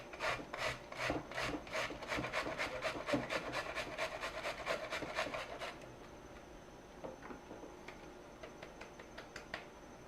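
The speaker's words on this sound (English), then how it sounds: "we're going to grate this cauliflower down." Cauliflower scraped by hand against a metal grater in a kitchen, a quick run of rhythmic rasping strokes that fades to softer, scattered scrapes, close and alone with no talking.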